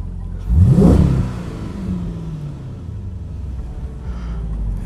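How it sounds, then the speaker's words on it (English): Hemi V8 car engine blipped once into a loud rising rev that quickly falls back to a deep, rumbling idle, heard close by with no talking. "But as you can hear, it's a Hemi."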